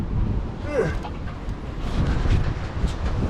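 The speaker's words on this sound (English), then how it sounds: "And it's super windy, I know." Gusty wind buffets the microphone with a low, steady rumble, and a brief high call rises faintly in the background.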